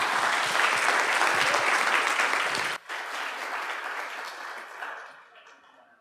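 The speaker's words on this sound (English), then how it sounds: "Let's give David a round of applause" A conference audience in New York gives a hearty round of applause, loud dense clapping that holds steady, briefly dips, then swells again before gradually fading out toward the end.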